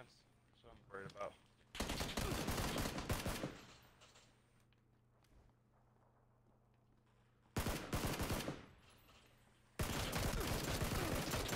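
Gunfire in the video game PUBG: loud bursts of rapid shots in three separate volleys, each lasting a second or two, with quieter gaps between them.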